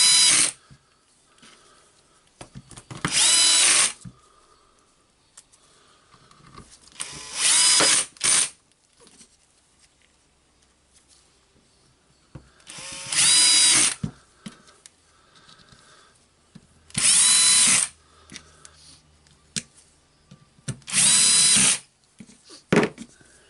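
A Dewalt DCF886 brushless impact driver, freshly repaired at the anvil, fires in five separate loud bursts of rapid hammering as screws are driven, each roughly one to two seconds long with quiet pauses between.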